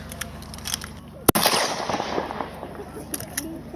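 Single sharp rifle shot from a bolt-action rifle during a trench warfare drill, loud and close, with a rumbling echo that fades behind background voices.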